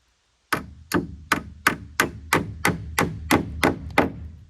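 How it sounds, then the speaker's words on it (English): Hammer blows driving nails into a board for a screen porch on an off-grid cabin, about ten sharp, evenly spaced strikes close by, each ringing briefly, with no talk. "Always fun trying to hold it with your knee while you're nailing it."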